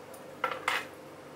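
A steamer plate holding a Teochew-style pomfret set down into a steamer of boiling water, two quick close clinks of plate against metal.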